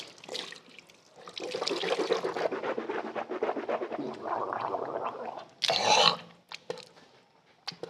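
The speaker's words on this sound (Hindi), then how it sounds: "इस तरह पानी खोला थोड़ा आहिस्ता से और सबसे पहले हमने कुल्ली करनी है।" Tap water runs gently from a washroom faucet while someone rinses their mouth during wudu, a steady splashing stream with a louder burst of swishing and spitting near the end.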